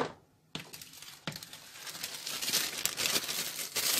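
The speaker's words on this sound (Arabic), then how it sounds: "بقوم جايبة كيس معايا كده زي ما انت شايفة" Plastic bag being handled while packing mango for the freezer, with close, continuous crinkling and rustling, punctuated by a few sharper crackles.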